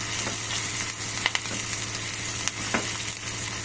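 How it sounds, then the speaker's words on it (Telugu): Pesarattu upma fries in a pan on a stove over a low flame, a steady close sizzle broken by a few soft scrapes and taps as it is stirred. "స్టవ్ సిమ్లో పెట్టి ఇలా ఫ్రై చేసుకోవాలి"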